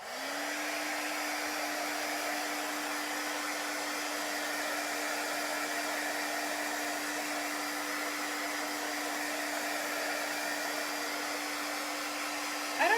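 Hair dryer blowing steadily and close on a chalk paste craft piece for about thirteen seconds, a constant even whir with no talk, clicking off right at the end.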